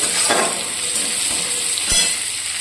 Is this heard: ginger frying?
yes